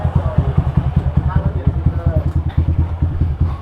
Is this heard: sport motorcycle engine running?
yes